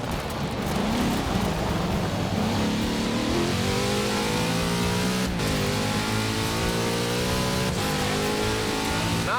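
A big Chevrolet engine in Forza Horizon 4 revs hard and climbs through gears, loud and close, with rising and falling pitch sweeps and brief shift dips, running continuously without talk.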